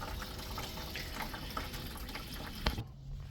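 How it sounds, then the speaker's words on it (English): Water pours steadily from the drain of a gas water heater straight into a bucket, a continuous faint splashing rush lasting a few seconds before cutting off abruptly near the end. "water coming out"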